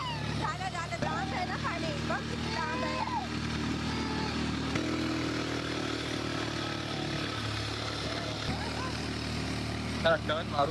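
A motorcycle engine hums steadily and close while riding near a beach in the evening, with family members talking over the continuous drone.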